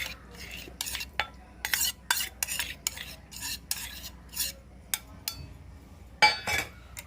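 Homemade French vanilla coffee with condensed milk and sugar being stirred in a cup, a spoon clinking and scraping against the sides in quick irregular bursts, fairly close and alone.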